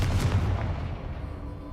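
Confringo fire blast spell exploding in the Hogwarts Legacy video game, a loud booming burst with heavy low rumble at the start that decays into a rough, crackling tail.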